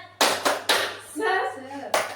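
A classroom of students does a rhythmic 'tepuk semangat' cheer: a quick run of sharp, close handclaps, then voices chanting together, then another single clap.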